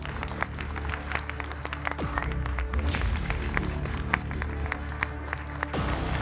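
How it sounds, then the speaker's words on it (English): An audience at the Famelab International 2018 semi-final applauds the three judges, a dense, steady wash of clapping that holds at an even level throughout. "big round of applause, please, again for our 3 judges"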